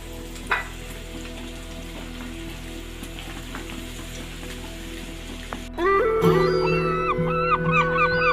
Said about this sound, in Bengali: বাকিগুলো এইভাবে ভেজে নিচ্ছি।